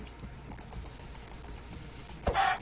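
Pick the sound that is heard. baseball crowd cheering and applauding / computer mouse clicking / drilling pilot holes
computer mouse clicking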